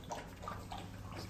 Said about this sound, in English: He's now drinking water, not splashing it